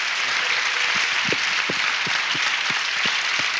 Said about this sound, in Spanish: Pues un aplauso a esta coherencia.